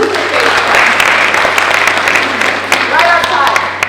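Audience applause during a wellness session at San Diego Comic Con, steady dense clapping from a crowd throughout, fairly loud with a few sharper individual claps standing out.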